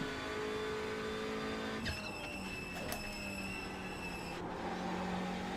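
A TCR touring race car laps Snetterton circuit, heard from on board as a loud, continuous engine drone. The pitch shifts abruptly at gear changes, and brief tyre noise comes through near the middle.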